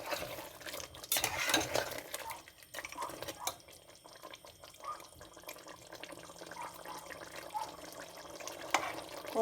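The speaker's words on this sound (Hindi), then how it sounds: "इसको मिक्स करेंगे अच्छे से।" A lump of jaggery being stirred into roasted masala chicken in a kadahi, giving soft, uneven scraping and wet sloshing that is close but fairly quiet, with no talking.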